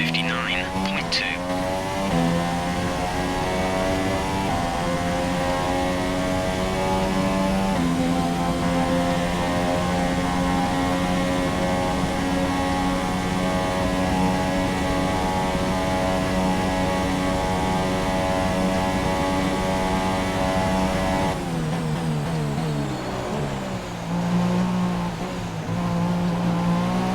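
Formula 1 car engine at Spa-Francorchamps in the F1 2017 video game, a loud sustained high-pitched howl with shifting pitch during the Belgian Grand Prix, rising and falling through gear changes, with a sharp drop near the end.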